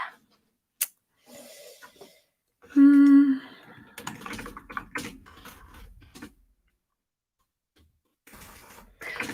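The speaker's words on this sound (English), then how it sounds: "I hate typing under pressure." Keys on a computer keyboard clatter in short bursts of quick taps, close and moderately quiet, with pauses between runs and a brief hum partway through.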